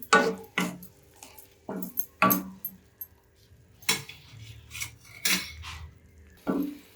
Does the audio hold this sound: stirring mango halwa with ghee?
yes